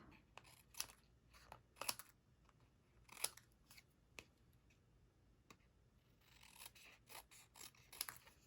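Scissors snip through ribbon while a twisted ribbon kit is being assembled, with a handful of quiet, crisp cuts spaced irregularly and a faint rustle of handling between them.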